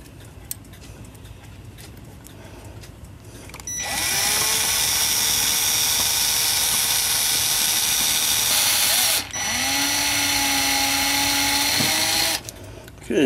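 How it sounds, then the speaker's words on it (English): A power drill bores out a hole in a Hubert Herr one-day cuckoo clock part, whining steadily at close range in two long runs separated by a brief pause, with only quiet handling noise before it. "Let me drill out the other one."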